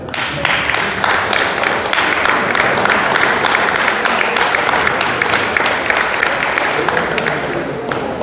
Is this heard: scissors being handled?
no